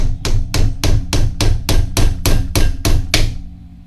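Hammer striking a nail through a tin can to punch holes, eleven sharp metallic blows in a quick even rhythm, loud and close, then a ringing fade.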